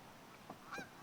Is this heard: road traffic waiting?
no